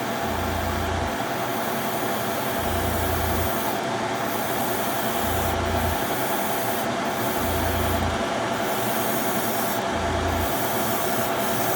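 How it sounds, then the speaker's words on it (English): Airbrush or spray gun hissing steadily as paint is sprayed onto a fishing lure, a sunset perch pattern, aimed into a spray booth, with a low motor hum cycling on and off underneath throughout. "Trying to get into the habit of always trying to spray into the spray booth."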